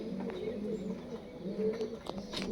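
A pair of pure-bred dhanyawala pigeons coo in low, rolling, overlapping calls, close and steady throughout, with faint background noise and no talking.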